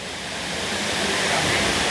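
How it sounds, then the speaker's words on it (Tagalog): Tamaraw Falls near Puerto Galera, fed by water from Mount Halcon: a loud, steady rushing roar of falling water, close and continuous and swelling slightly toward the end, with no talking. "Dito tayo guys sa Tamaraw Falls, dito sa bungad ng Puerto Galera"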